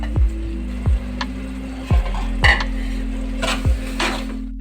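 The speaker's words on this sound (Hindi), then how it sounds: "ये सारा मसाला इसमें जाएगा और इसको अच्छे से मिक्स" A spoon scrapes and knocks against a pot while biryani masala with chillies, coriander and plums is stirred, giving several distinct metallic clinks at irregular intervals over a low steady hum.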